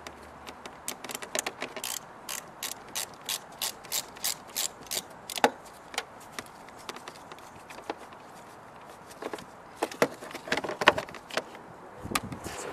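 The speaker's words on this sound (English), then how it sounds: "I'll disconnect the negative terminal of the battery. That's just a 10 millimeter socket." Hand ratchet turning a 10 mm socket on the negative battery terminal of a Mini Cooper S R56, a run of quick, close, crisp clicks in bursts with short pauses between strokes, no talk.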